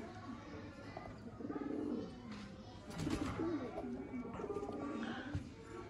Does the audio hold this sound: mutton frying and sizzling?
no